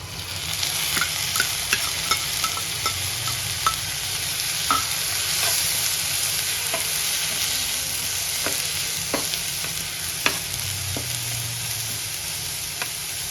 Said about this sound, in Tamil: வெங்காயம் நல்லா பொன்னிறமா வதங்கணும்னு இஞ்சி பூண்டு பேஸ்ட் போடலாம்.